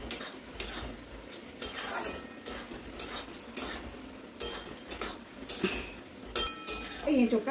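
A spoon scrapes and clinks against a cooking pan in irregular strokes while boiled jackfruit and fried potato are stirred with ground spices, close and fairly quiet, with occasional talk.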